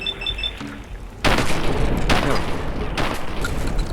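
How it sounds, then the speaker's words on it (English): Explosive rounds fire in Fallout 4 against Mirelurks: three heavy booming blasts in quick succession, each loud and close with a rumbling tail, following a short stretch of faint electronic beeps. "Look at the explosion rounds at work."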